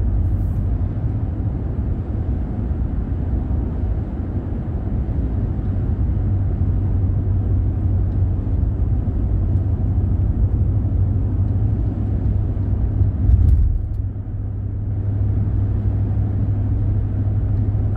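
A car drives along winding country back roads in the Lake Livingston area, its engine and tire rumble forming a steady low drone from inside the cabin, with a brief thump partway through and no talk.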